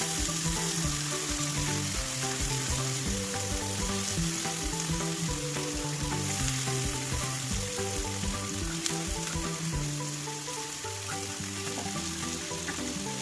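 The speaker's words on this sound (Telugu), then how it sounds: "తర్వాత మనం కట్ చేసి పెట్టుకున్న బంగాళదుంప ముక్కలు వేసుకోవాలి." Cut potato pieces frying with onions in a hot pan, a loud, continuous close sizzle broken by repeated stirring and scraping sounds, with no talking.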